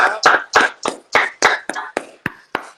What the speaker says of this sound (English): Let's clap them up, everybody.